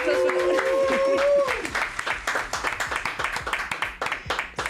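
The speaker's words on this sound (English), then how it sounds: "So, round of applause for" A round of applause for radio show guests, with a sustained whistle early on and then a few people clapping in an uneven, fading patter at close range.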